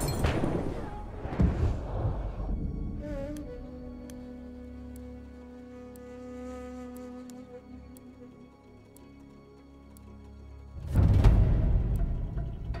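Artillery barrage in Battlefield 1, heavy booming impacts at the start and again near the end, with a low droning hum and faint ticking between them.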